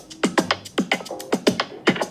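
Layered percussion loops play a steady groove of punchy, close hits, several with a quick downward pitch sweep, repeating in a tight rhythm.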